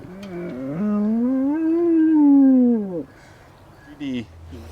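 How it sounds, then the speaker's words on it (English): A dog lets out a long, close howl that swells and bends in pitch for about two seconds before breaking off, followed by a short whimpering yelp. "I love listening to him howl."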